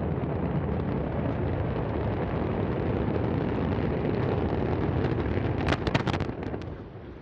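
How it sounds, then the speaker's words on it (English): An Antares rocket carrying a Cygnus cargo spacecraft roars after liftoff in Virginia with a continuous, heavy broadband rumble heard from a distance, and sharp crackling bursts near the end. "And we have liftoff of Antares, 54-3 mission, covering Cygnus on its third CRS mission to the ISS."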